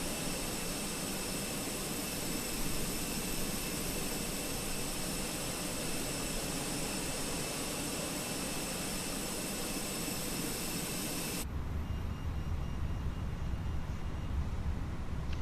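An A321 airliner's jet engines idling in a flight simulator, a steady droning whine with high tonal hum, constant and even, then switching abruptly near the end to a duller, lower rumble.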